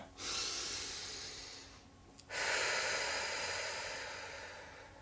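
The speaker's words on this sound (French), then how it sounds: "Reprenez une profonde respiration." Two deep breaths during a guided meditation, each a long, airy, close inhale-exhale with a brief quiet gap between them, heard alone without talk.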